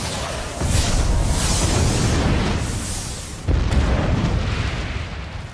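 Loud, continuous explosions and deep booms from a Harry Potter and the Deathly Hallows video game cutscene at a wedding, with a second heavy blast surging in partway through.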